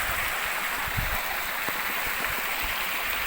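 A stream flows at Nang Rin waterfall in the Phu Phan mountains, swollen and muddy after recent floods, a steady, even rushing of water that continues without break.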